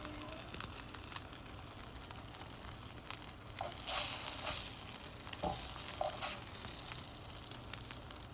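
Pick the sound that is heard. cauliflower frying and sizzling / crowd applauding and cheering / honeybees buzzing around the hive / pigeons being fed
cauliflower frying and sizzling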